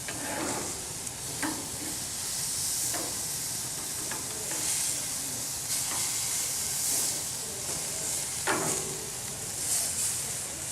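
Marinated pork chops sear on a hot grill, giving a steady loud sizzle and hiss with occasional soft scrapes and clicks as they are turned and moved around; no one speaks.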